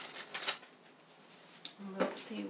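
Tarot cards are shuffled by hand in short, faint riffling bursts, two quick flurries with a soft lull between, in a quiet indoor setting.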